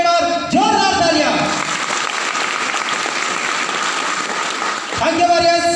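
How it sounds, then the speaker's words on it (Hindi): Loud, dense applause fills a business meeting hall for several seconds. A voice speaks over it at the beginning and again at the end. "तो मैं चाहता हूँ कुंती देवी के लिए एक बार जोरदार तालियां।"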